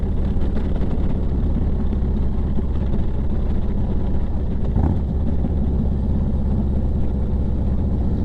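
Harley-Davidson motorcycle riding at low speed in calm air, picked up through a GoPro mic on a 3.5mm angled adapter: a loud, steady, deep engine rumble that runs without a break, with no voices.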